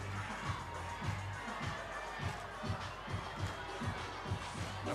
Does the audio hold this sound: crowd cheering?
yes